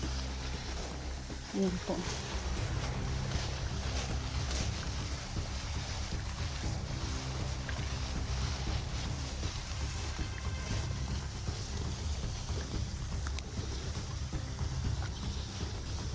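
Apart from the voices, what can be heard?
strong current of a stream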